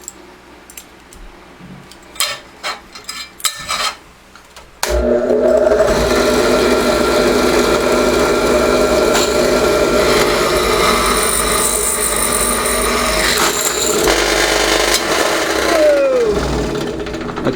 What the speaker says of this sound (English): I'm just going to drill a hole right where this hole in the hinge is, using this 7/32 of an inch bit.